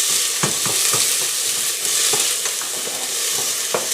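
Steady, loud sizzling of garlic and onions searing in a pan with repeated scraping taps of a utensil stirring through the food.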